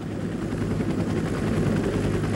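A rescue helicopter near an avalanche site on a mountain gives off a steady, loud rotor and engine roar, with rapid low thudding blades throughout and no voices.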